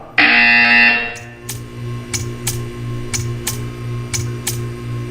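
A loud electronic buzzer sounds for about a second in the Portal 2 video game, then a series of soft, evenly spaced ticks follows over a low, steady hum.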